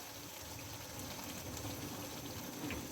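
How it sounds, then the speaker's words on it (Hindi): Dal mash with cream added simmers gently on low heat in a pot, a soft, continuous bubbling and hiss, quiet and steady, with no voices. "और अब इसको हल्की आंच में मैं रख देती हूँ 5 मिनट के लिए, ताकि इसका जो है ना घी निकल आए।"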